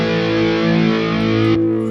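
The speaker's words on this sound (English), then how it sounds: "You have this nice 80s crunch tones." An electric guitar sustains a saturated, distorted crunch chord through a Sonicake Matribox 2 multi-effects unit set to an 80s JCM800-style amp tone, loud and steady, then shifts as the chord is changed near the end.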